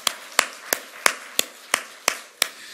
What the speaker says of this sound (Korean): 하나님께 박수 영광 그리고 할렐루야.